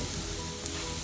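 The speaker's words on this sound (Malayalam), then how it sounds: "അങ്ങനെ കുരുമുളക് പൊടിയും ചേർത്ത ശേഷം നന്നായി വഴറ്റിയെടുക്കാം." Spices and ground black pepper sautéing in a hot pan for a vegetable tapioca biryani, a steady close sizzle with no pauses and no voices.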